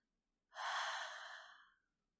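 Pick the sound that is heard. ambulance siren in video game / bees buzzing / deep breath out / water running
deep breath out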